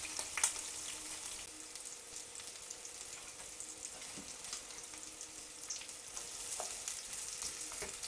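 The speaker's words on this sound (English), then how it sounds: "I've got the shallots on a low heat. I'm just going to keep cooking these gently until they soften and golden brown." Shallots fry gently over low heat with a quiet, even crackle and scattered small pops, and now and then a faint stir.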